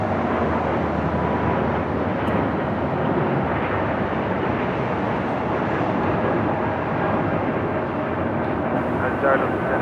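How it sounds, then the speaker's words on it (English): An Embraer E2 jet takes off on runway 25 right at LAX, a loud, steady broadband engine roar that holds throughout, with radio talk over it. "We got that E2 now rocking and rolling down to 25 right"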